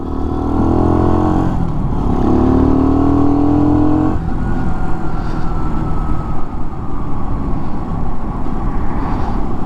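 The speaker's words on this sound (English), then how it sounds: "it's a nice and smooth engine" A 2015 Skyteam Skymax 125 monkey bike engine drones loudly and continuously while riding, its pitch rising and falling with throttle changes.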